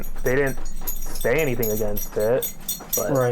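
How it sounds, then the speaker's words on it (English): A dog whimpers and whines in drawn-out, wavering cries, repeated several times close to the microphone while someone talks over it. "Noise you hear in the background, it's just my dog."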